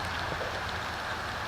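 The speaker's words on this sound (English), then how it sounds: "it's starting to rain harder and harder" Steady outdoor rain falls in a soft, even hiss with patter on surfaces, continuous and fairly quiet, with no voices.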